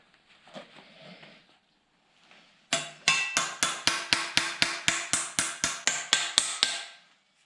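Steel repair panels for a Land Rover Discovery 1 are bent with a hammer: after faint earlier rustling, about fifteen sharp, loud, evenly spaced metal blows ring out in a steady rhythm, close up.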